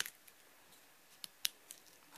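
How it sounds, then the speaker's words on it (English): Scissors snip through paper at a pencil mark while a model horse jump is being made, giving a few faint, crisp cuts close by against a quiet, hissy background. "with your scissors, cut right at that mark."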